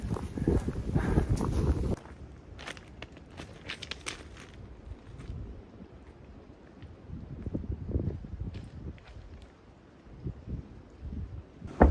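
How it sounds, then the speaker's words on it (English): Wind gusting outdoors on a mountain walk: buffeting wind noise on the microphone, heavy at first and then lighter, with footsteps and scuffs in between, with no talk. "At least the wind is blowing."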